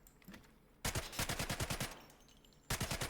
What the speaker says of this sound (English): also cannon fire.